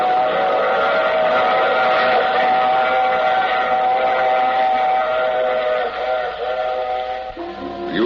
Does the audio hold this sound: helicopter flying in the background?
no